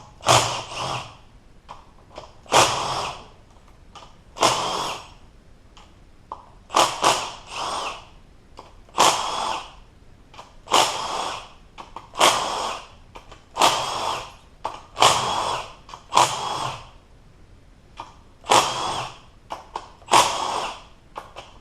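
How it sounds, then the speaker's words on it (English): A power tool runs in about a dozen short, loud bursts with brief pauses between them, removing the 8mm bolts from a 4L80E automatic transmission. It sounds close and is heard alone, without talk. "Looks like I can remove a bunch of the other bolts. Those are all 8mm that hold that on."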